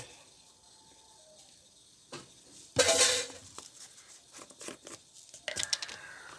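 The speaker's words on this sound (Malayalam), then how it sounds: "നമുക്കിനി എണ്ണ ഒഴിക്കാം." Cooking oil hits a hot pan on a lit gas stove while bitter gourd thoran is being made. A sudden hissing sizzle flares loudly for a moment and then fades, followed by scattered clinks and crackles from the pan.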